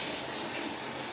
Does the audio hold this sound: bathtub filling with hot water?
yes